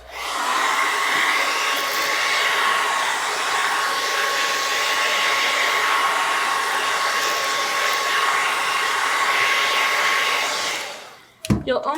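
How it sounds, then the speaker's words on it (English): A blow dryer runs steadily and loudly for about eleven seconds, drying a fresh coat of paint on a stenciled wooden sign, then cuts off abruptly, followed by a few brief knocks. "we're going to hit this with a blow dryer"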